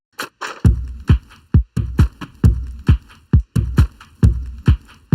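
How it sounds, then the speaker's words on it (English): Full drum mix for a produced track, layering chopped hollow-tree percussion samples with other drums: a steady, busy groove of punchy low hits and crisp clicks with tight subdivision, loud and continuous. "they sound like this all together, all the drums."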